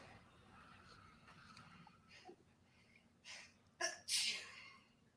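A sharp sneeze bursts out near the end after a quick inhaled gasp, following a stretch of quiet room noise with small rustles.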